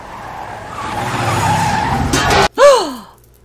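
Car in a movie scene braking hard, a rising engine rush ending in a sharp, loud tire squeal and skid that bends in pitch and fades, with no talk over it.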